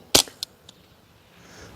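A SIG P322 .22 pistol fitted with a Resilient Jessie's Girl suppressor fires one sharp, close, muffled crack into the dirt outdoors, followed by two quicker, fainter echoes or reports that trail off into quiet.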